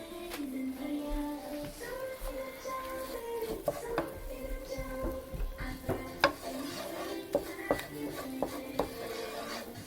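A roux of flour and fat cooks in a pan for giblet gravy, with repeated scraping and stirring clinks of a utensil against the pan over a soft sizzle.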